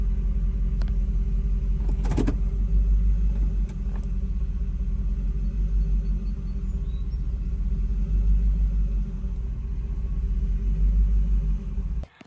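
A car engine with adjusted idle timing idles in gear, a steady low rumble heard up close for the whole stretch, with a brief knock partway through and no talk.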